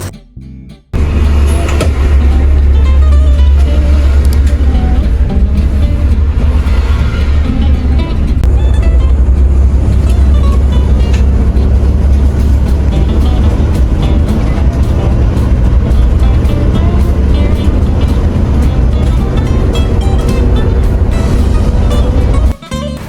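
A 168 Trans double-decker bus rolls along a road on the Jakarta to Wonosobo route, its loud, steady engine rumble and road roar heavy in the low end and continuous throughout.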